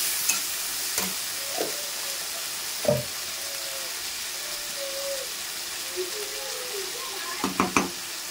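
Ground chilli masala with salt and turmeric fried in oil and stirred, giving a faint, steady sizzle broken by a few soft spoon knocks and scrapes against the pan, with a small cluster of taps near the end.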